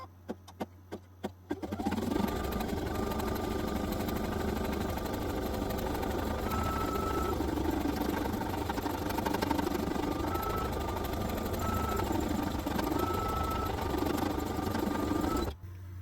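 An embroidery machine held in a magnetic hoop stitches out a design in red thread. After a few clicks it starts up and runs as a steady mechanical hum with rhythmic stitching pulses, loud and close, for the rest of the clip.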